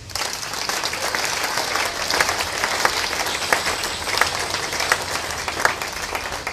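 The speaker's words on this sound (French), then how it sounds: "Acclame pour toi-même." A church congregation at a Sunday service claps in sustained, moderately loud applause, a dense patter of many hands with a few sharper claps standing out, and no voices over it.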